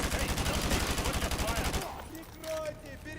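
Rapid automatic gunfire rattles in Modern Warfare 2 Remastered, a loud sustained burst of shots for nearly two seconds, then quieter game sounds follow.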